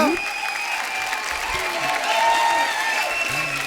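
A studio audience on a comedy talk show claps loudly for the Rocket Boys guests, a dense steady round of applause with a speaking voice over it.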